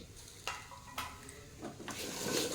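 Diced tomato fries with spices in a hot pan, a moderate sizzle punctuated by several spatula scrapes and taps, growing a little louder toward the end.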